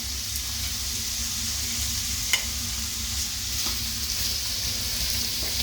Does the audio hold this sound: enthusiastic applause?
no